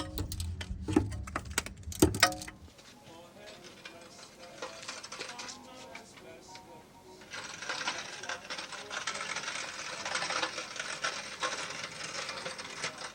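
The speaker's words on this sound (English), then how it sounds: "Trans is almost ready to drop. Just double wrenching." Ratchet wrenches work loose the transmission bolts on a 1989-1995 Toyota 4Runner: a burst of rapid, close clicking, a stretch of quieter clatter, then long runs of steady ratcheting under faint background sound.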